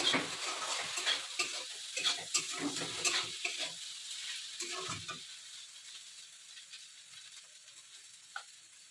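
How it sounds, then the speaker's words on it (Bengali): Food frying in a pan in a home kitchen during morning cooking, a close crackling sizzle with stirring scrapes for the first five seconds, then fading to near quiet with one faint clink. "আর এদিকে ভাজাটা হচ্ছে।"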